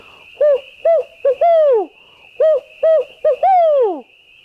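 A person mimics an owl with a series of hooting calls in clustered pairs, each rising then falling in pitch, close and loud over a faint steady background whistle.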